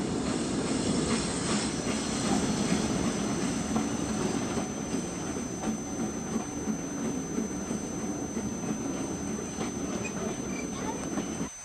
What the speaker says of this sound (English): And now the special works back to London out of the down platform.